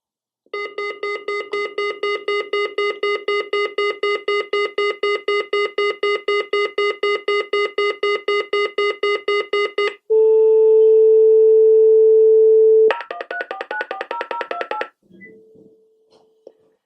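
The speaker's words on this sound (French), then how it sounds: "Vous entendez un signal." Emergency call alert from a Doro 347 phone: a long run of rapid, evenly pulsed electronic beeps, then a steady sustained tone, then a short burst of fast warbling beeps. Loud and close, with no talking.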